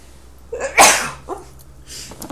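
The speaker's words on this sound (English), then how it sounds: "I'm going to sneeze, excuse me." A single sharp sneeze bursts out up close, followed by a few soft breathy sounds.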